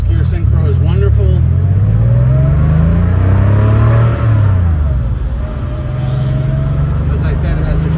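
A 1985 Porsche 911 Turbo-Look coupe with a factory short shift pulls away in first gear, its engine revving steadily upward, loud and close inside the cabin with the windows and sunroof open, while someone talks over it.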